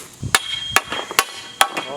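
Five sharp, loud strikes land at uneven intervals, each a bright percussive crack over quieter background clatter, like a hammer hitting something hard.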